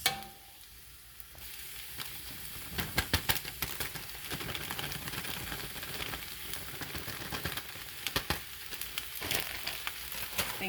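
Mushrooms sizzle and fry steadily in a hot pan while they sweat down, a continuous close crackle with sharper spits and pops scattered throughout and no talking.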